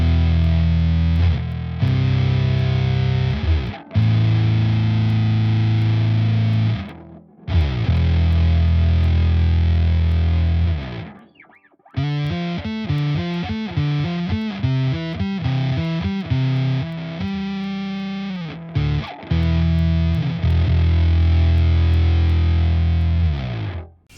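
Bass played through a Dark Dove Fuzz in a Helix preset, thick and heavily distorted: long sustained low notes broken by short gaps, then a quicker choppy riff section, loud and without voices.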